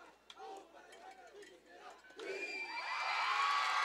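A high school football crowd cheers and shouts in response to a team's pregame haka dance, swelling louder into a sustained roar after scattered voices.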